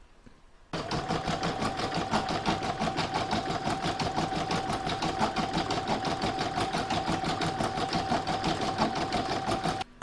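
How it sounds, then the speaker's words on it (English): An embroidery machine stitches a decorative motif in gold thread on a hooped placemat, starting abruptly and running a fast, steady mechanical rattle with a constant whine for nearly ten seconds before stopping. "I'm now going to do the decorative motif stitching that's going to cover all of this"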